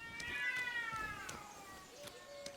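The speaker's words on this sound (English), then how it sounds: "I heard all the cats, though." Several cats meowing in Kingdom Come: Deliverance II, overlapping drawn-out cries that rise and fall, fairly close, with faint clicks and background noise beneath.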